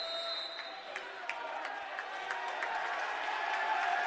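Crowd at a college basketball game cheering and clapping, moderately distant and steady with a slight rise toward the end, sharp shoe squeaks and bangs scattered throughout.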